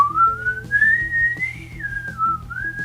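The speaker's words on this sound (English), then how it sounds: "whistling in the outro." Melodic whistling glides up and down over a steady band groove of electric piano, guitar and drums in the outro of a song, the whistle clear and prominent above the music.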